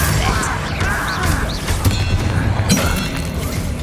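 Confringo and Bombarda spells explode during a Hogwarts Legacy battle: heavy booms, crashes and shattering bursts land in quick succession over a dense, loud wash of combat noise.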